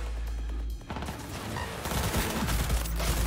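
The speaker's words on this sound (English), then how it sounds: "Missed all those bullets out there, Skippy." Gunfire from the video game Cyberpunk 2077, a dense burst of rapid shots that fills most of the clip, loud and continuous with a brief lull near the start.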